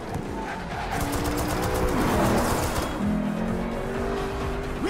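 In the Black Panther movie car chase, car engines roar and tires squeal loudly and continuously under a dense, busy mix.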